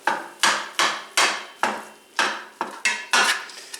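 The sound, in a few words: spatula breaking up ground meat in pan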